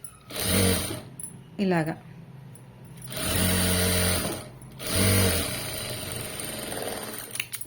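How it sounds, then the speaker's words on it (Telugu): A sewing machine runs top stitching onto lining fabric in three bursts of steady whirring, short at first then longer, with a brief pause between runs and a voice speaking in the gaps. "ఇలా ఒక టాప్ స్టిచ్ అయితే వేసేసేయండి. లైనింగ్ మీద పడేటట్టు వేయండి."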